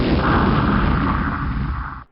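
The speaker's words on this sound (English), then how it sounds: "This gunshot does not reflect anything that's going on in the content." A PowerPoint text animation plays a gunshot sound effect: one loud, broadband burst that holds for about two seconds and then cuts off sharply, heard alone without any voice.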